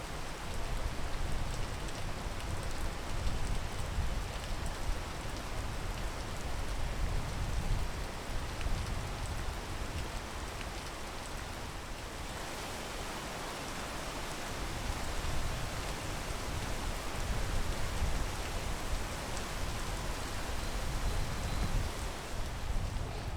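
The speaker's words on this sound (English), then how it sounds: "I just wait for the rain." Steady rain pours in the video game Peak, a dense even hiss of drops on surfaces that holds throughout, briefly easing in the middle, with no voices.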